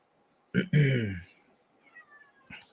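A cat gives one loud, close meow, a short drawn-out cry after a brief chirp, followed by quiet room tone with faint small sounds.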